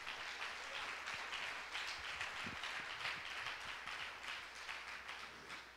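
A church congregation claps for the Lord Jesus during a sermon, producing a faint, steady wash of applause that holds evenly from start to finish with no talk.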